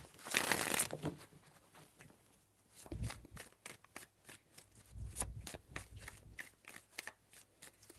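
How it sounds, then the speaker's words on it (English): Tarot cards are shuffled in a burst of crisp riffling, followed by a string of quick soft slaps and flicks as the deck is handled up close. "Three shuffles."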